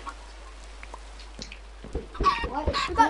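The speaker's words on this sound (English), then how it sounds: "We got a chicken!" Chickens in a PS4 video game give a burst of clucking near the end, loud and close after a quiet stretch of faint game sounds, with a voice briefly heard in the background.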